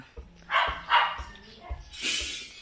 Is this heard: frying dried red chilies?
no